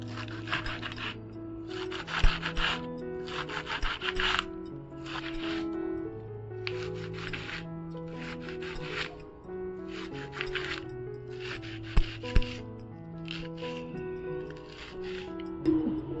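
A knife finely chopping spring onion greens on a board, with quick rhythmic bursts of close cutting in repeated runs over a low hum, and no voice.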